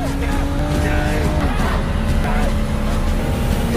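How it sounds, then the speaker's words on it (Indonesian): Tires squeal and skid as a car loses control and speeds backwards in a film scene, with engine roar and gliding screech tones under a narrator's voice. "Mobil kembali hilang kendali yang kali ini melaju mundur ke belakang"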